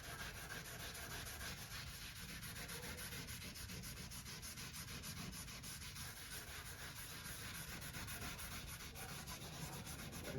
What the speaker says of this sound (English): I'm going to use my scouring pad here